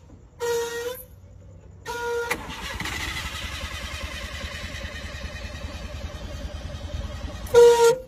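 An old car given by a grandfather cranks briefly and dies, then cranks again and catches on the second try, settling into a steady rough idle. A horn-like tone sounds near the end.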